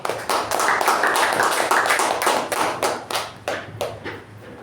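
A small group at a Toastmasters meeting gives a round of applause, starting as close, loose clapping and thinning into scattered separate claps before it stops.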